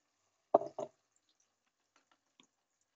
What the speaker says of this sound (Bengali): মশলার বাটিটা ধুয়ে জলটা দিয়ে দিচ্ছি